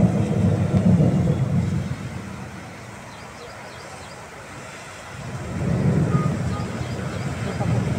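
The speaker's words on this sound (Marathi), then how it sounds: "भयानक पाऊस पडतो." Steady heavy monsoon rain roars throughout in Chakan, with a low thunder rumble swelling at the start and again near the end, loud and close.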